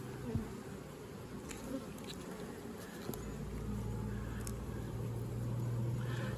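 Honey bees buzzing around an opened hive during an inspection, a dense close swarm hum with individual bees zipping past the microphone, growing steadier and louder toward the end.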